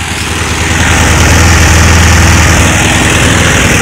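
A Toro small engine runs on choke just after starting, a loud close rhythmic low chugging idle with a rough, vibrating tone that swells slightly in the first second and then holds steady, with no talking.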